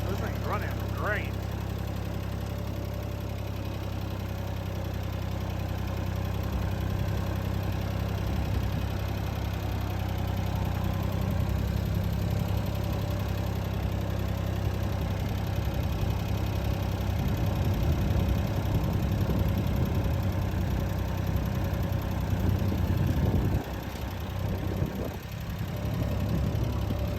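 Ford 2600 tractor engine running steadily on a first drive, a continuous low throbbing drone held throughout at constant loudness, with someone talking over it.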